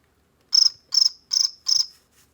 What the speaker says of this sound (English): a field cricket.